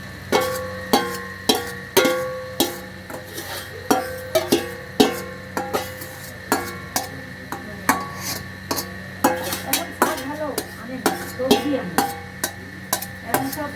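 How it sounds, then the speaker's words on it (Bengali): Marinated meat, mixed with chopped onion, ginger paste, garlic paste and tomato, goes into oil-released fried spice masala in a pan and is stirred. Close, sharp metal clanks and scrapes of the utensil against the pan repeat irregularly throughout. "এবার আমি ম্যারিনেট করা মাংসটা দিয়ে দেবো।"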